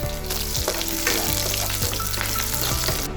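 Onion and green chilli fry in hot oil with panch phoron, giving a loud, steady, close sizzle that runs unbroken beneath background music.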